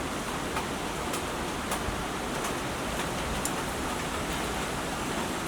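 Steady rain falling outdoors on a dark afternoon, a continuous even hiss of drops at moderate level with a few faint ticks, no voices.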